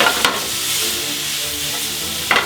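Vegetables and garlic sizzle steadily in a frying pan for a tajine, loud and close, with brief scraping stirs at the start and end and no talking.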